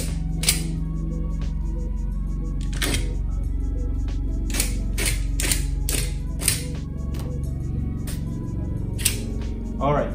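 A Tempurpedic Cloud Luxe mattress is cut open with a series of sharp clicking, snipping strokes in an irregular rhythm close by, over a steady low background hum.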